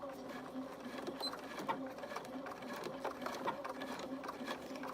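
A sewing machine back stitches a seam on a fabric jar mug maker, its needle rattling in a quick steady whir, faint and continuous, with a voice talking quietly over it.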